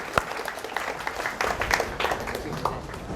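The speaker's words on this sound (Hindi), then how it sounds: "इन सब के लिए तालियां बजाएं" Audience applause at a career counseling session, many hands clapping in a steady, moderately loud patter with a few sharper individual claps.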